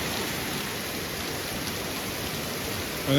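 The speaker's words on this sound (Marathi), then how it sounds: "एकदम दुनियाभरचा पाऊस पडतोय" Heavy, wind-driven rain pours down steadily on Ghodbunder Road, a dense hiss of drops on surfaces with a brief louder burst at the end.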